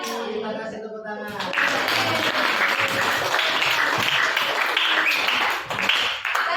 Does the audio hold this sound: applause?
yes